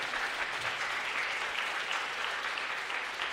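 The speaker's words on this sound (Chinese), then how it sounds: "我们给所有的老师、小朋友再一个热烈掌声" A church congregation applauds teachers and children, a dense, steady burst of clapping from many hands that fills the room and stays even throughout.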